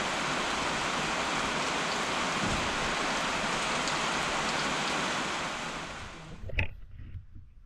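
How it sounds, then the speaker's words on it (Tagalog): Steady, dense hiss of rain falling, loud and constant, fading out near the end with a brief clatter. "Umuulan na."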